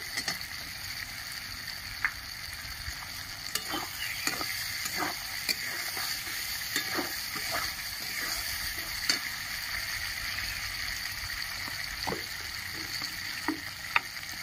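Green chillies and tomatoes fry in a pan with a steady, moderate sizzle, broken by scattered clicks and crackles from the pan, and no voices are heard.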